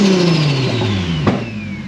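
A turbocharged car with a straight-piped exhaust revs loudly and close by, the engine note falling away while a high turbo whine sweeps downward through the clip.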